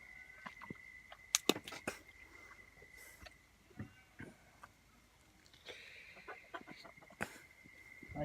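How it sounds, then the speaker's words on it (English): Chickens at a backyard coop cluck and squawk in scattered bursts, fairly close, with a steady background tone and occasional rustling between calls. "Hi, chickens. Chickens are hungry."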